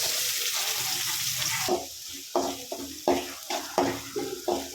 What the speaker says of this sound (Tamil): இப்போ இதில் வந்து கட் பண்ணி வச்சுருக்க ரெண்டு சின்ன வெங்காயம் இதை ஆட் பண்ணிக்கலாம்